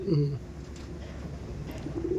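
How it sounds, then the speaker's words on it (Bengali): A pair of pigeons, male and female, in a loft coo softly and briefly at the start, with a faint low coo near the end and quiet ambient noise between. "এই যে নর আর এই যে মাদি পায়রা"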